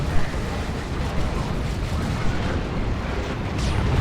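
Fire Prism tanks fire and explosions go off in a Dawn of War 2 multiplayer battle, making a dense, continuous roar of booms and blasts that stays loud throughout the wash of game noise.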